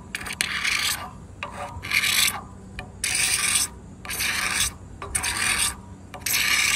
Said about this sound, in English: when working on axe or hatchet handles, get you a set of card scrapers. These are great for taking off the lacquer.